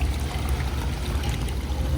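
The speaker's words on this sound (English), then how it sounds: "So many water features." Outdoor water feature at an antique shop trickling steadily, a soft continuous burble of running water with low rumbling undertones and no voices.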